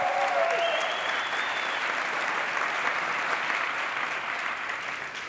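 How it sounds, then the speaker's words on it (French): Audience at a Geneva business awards event applauds a company representative named Rémi: sustained, even, dense clapping from a large room filling the whole stretch, slightly fading toward the end. "Bienvenue Rémi, on peut l'applaudir."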